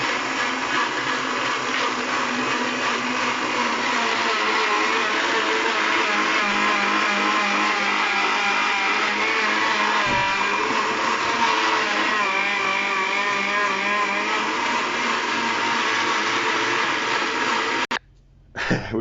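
A cheap, weak blender whirs continuously while blending chopped apples for homemade scrumpy cider, a loud steady motor drone with shifting pitch that cuts out abruptly near the end, then briefly restarts.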